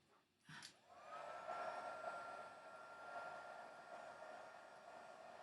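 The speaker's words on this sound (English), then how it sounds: "while I'm heating up my heat tool" An embossing heat tool switches on after a click and runs as a steady, breathy blowing whir with a faint whine, holding at an even level, fairly quiet and alone.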